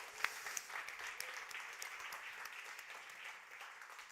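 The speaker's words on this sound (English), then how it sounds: "Give a round of applause to all the speakers." A conference audience applauds the speakers at an AI developer event. Steady, fairly distant clapping from many hands continues evenly throughout, with no voices over it.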